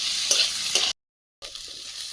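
Telakucha fruit frying with garlic, onion and chilli in a pan, a steady bright sizzle broken by a couple of stirring scrapes, then a short silent gap before the sizzle resumes, close and alone.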